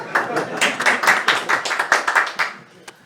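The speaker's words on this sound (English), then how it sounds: "Elected officials love applause. Do it again." Audience applause and clapping for New York's governor at an event, a lively burst of many hands clapping close and loud, ebbing in waves and tapering off near the end.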